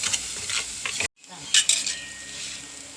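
Chilli, coriander, turmeric and fennel powders with salt fry in a pan for a fish curry, sizzling under metal spoon scrapes, with a sharp cut to silence midway before the hiss and clinks resume.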